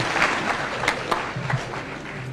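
A crowd at an outdoor church service in Laikipia applauds, a dense, steady wash of clapping from many hands with a few sharper claps rising out of it.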